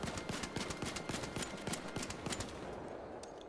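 Rapid, even bursts from a level 1 Venator gun in Arc Raiders, loud and close, firing continuously for a few seconds without talk.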